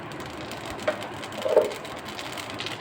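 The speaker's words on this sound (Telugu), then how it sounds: "తాలింపు గింజలు వేద్దామండి" Tempering seeds dropped into hot oil for dal, for a raw tamarind lentil dish, crackling in a soft continuous sizzle with a few sharper pops near the middle, fairly quiet and without speech.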